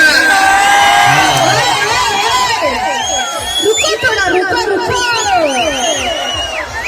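Audience at an Uttar Karnataka comedy stage show shouting, whooping and cheering after a song, a dense, loud, continuous roar of many voices with high whistles and cries.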